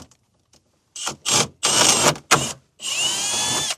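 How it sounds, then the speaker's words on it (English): A power drill bores holes through a car roof in several loud bursts of whining spin, each a second or so long with short gaps between, the last run longest and rising in pitch. "Just make sure you get the drill bit through the hole in the roof, because that'll guide your drill bit"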